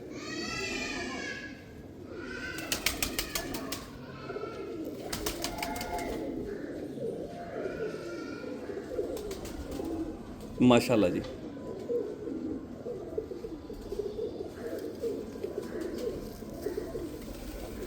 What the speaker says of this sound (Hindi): उनके बारिश वाले सलाले डैडी कबूतर